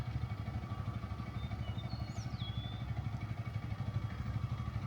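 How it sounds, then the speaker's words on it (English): A small motorcycle at a riding-skills drill session, its engine making a steady, faint, rough drone at a distance with no one speaking. "here comes Aaron to show him what his little bike will do, and it's not so little"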